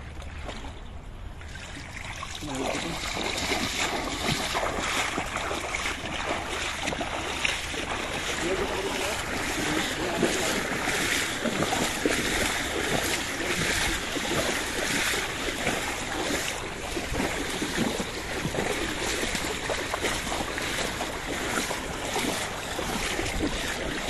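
A boat out on open water during cast net fishing, with steady broadband wash of waves and wind throughout, loud and continuous, and some faint voices mixed in.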